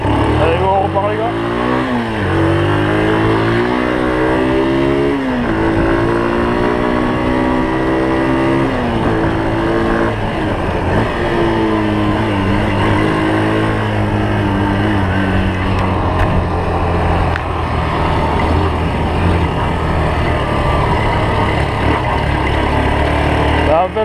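A motorcycle rides off and accelerates hard, its engine rising in pitch through repeated gear changes, loud and close throughout, with a voice talking over the riding.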